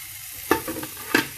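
Tadka tempering sizzling in a pan for masoor dal, with two sharp spattering bursts over a low, steady frying hiss, close and fairly loud with no talking.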